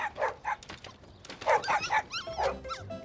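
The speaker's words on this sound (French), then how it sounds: "C'est un des chiots qu'on entend." A tiny puppy in a children's cartoon gives a run of short, high whimpers and yips, then thin whining barks that rise and fall, close and fairly loud, with no talking over them.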